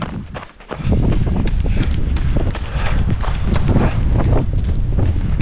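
Strong wind on a snowy, icy mountain trail near 1500 m on Mont Ventoux buffets the microphone in loud, rough gusts, with crunching footsteps underneath.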